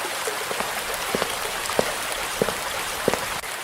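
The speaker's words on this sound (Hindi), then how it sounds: "बरामदे में बैठ के बरसात का मजा लेते हैं। देखो झावट कैसे भिगो रही है।" Rain falls steadily outside a veranda, a dense hiss with scattered distinct drips and drops landing close by, no voices.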